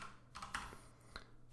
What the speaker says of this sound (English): by typing head --help